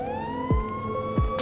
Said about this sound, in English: I'm hearing sirens.